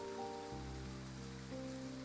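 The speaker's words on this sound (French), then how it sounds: "It's not going to stop raining tonight." Steady rain falls in the video game Love and Deepspace, with a soft hiss under sustained tonal game music that shifts pitch partway through.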